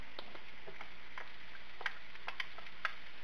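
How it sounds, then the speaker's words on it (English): Food, with bacon bits to follow, laid into melted butter in a pan for a cream cheese appetizer, giving a faint, quiet sizzle broken by scattered small ticks and taps. "we're just going to add these to the pan"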